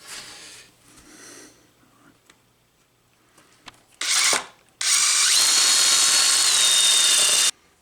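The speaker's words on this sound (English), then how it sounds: "now it's time to drill the cavity" A power drill whirs into wood in two bursts, a short one followed by a longer sustained run, loud and close after quieter handling noises.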